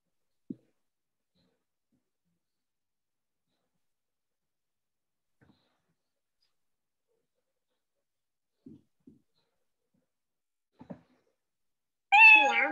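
A text-to-speech voice set to kitten gives a short, loud, high-pitched meow-like utterance at the very end, after long near-silence broken by a few faint clicks.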